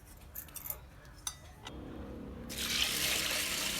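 Water poured from a tap onto chana dal in a pressure cooker, a few soft clinks first, then a steady rushing flow that starts abruptly and holds to the end.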